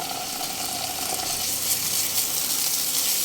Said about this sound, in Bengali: আদা রসুনের কাঁচা গন্ধটা চলে যাওয়া পর্যন্ত একটু ভেজে নিতে হবে